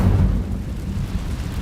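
A deep, rumbling fiery burst opens the moment as the Incendio fire spell is cast in Hogwarts Legacy, then fades into a low, sustained roar.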